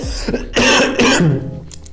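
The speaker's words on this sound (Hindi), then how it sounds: "सॉरी, थोड़ी सी खांसी आ गई" Two harsh, forceful coughs close to the microphone, preceded by a brief throat-clearing rasp.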